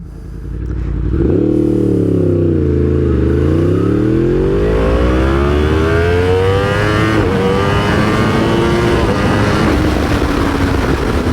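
A Yamaha R1M sport motorcycle engine pulls hard under acceleration, its loud rising whine climbing steadily through the revs after a brief dip, close and continuous with no talking.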